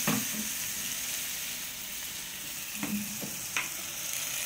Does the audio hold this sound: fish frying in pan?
yes